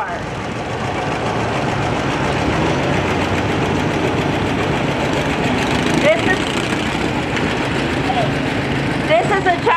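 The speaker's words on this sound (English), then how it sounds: "1951 John Deere AR" A 1951 John Deere AR tractor runs in an antique tractor parade, its engine chugging steadily and fairly close throughout, with voices talking over the engine sound.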